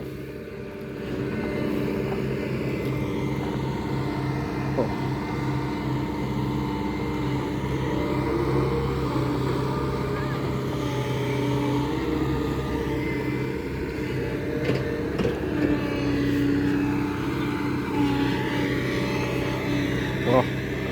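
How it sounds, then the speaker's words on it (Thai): Steady, loud tractor engine drone rumbles continuously while it levels ground beside a freshly dug pond, with someone talking over it at times. "นี่ก็เอารถไถมาปรับ"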